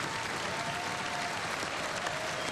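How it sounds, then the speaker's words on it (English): Small audience clapping during a broadcast event, a dense, steady round of applause that holds evenly for the whole stretch, close and fairly loud with no one talking over it. "Oh, she did the tiny claps."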